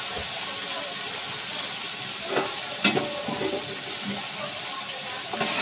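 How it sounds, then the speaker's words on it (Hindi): Spices crackle and sizzle in hot oil while murgh chana cooks with tomato, ginger and garlic paste, a steady hiss with scattered pops and stirring scrapes, and a voice speaks over it. "बड़ी कड़कड़ाने की आवाज़ आ रही है"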